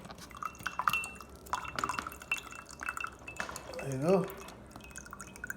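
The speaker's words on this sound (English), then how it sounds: "Strain the water from the coconut first." Water drains from a halved coconut in a home kitchen, with soft irregular drips and trickles under a person's nearby talk, plus a few light clinks.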